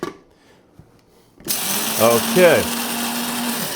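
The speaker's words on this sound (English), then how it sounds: "so what you want to do is actually pulse our coffee grinder" A coffee grinder pulses whole coffee beans for French press brewing: after near silence, a loud whirring motor starts abruptly and runs steadily with rising and falling pitch, close by, with a brief spoken word just before.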